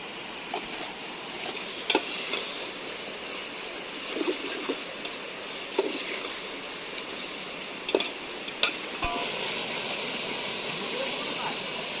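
Onion frying in oil in a pan while chicken biryani is cooked outdoors, a steady soft sizzling hiss with occasional clinks and stirring taps throughout.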